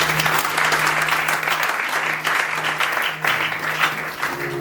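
A church congregation claps at a morning service, a steady wash of applause filling the room for several seconds with a low hum underneath.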